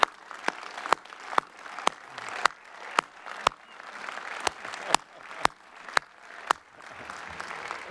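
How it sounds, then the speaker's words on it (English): Graduating class applauding at a spring commencement ceremony, steady mid-distance clapping with a series of sharp, regularly spaced louder claps punctuating the wash of hands. "please rise and give your teammates the rousing level of applause that they so"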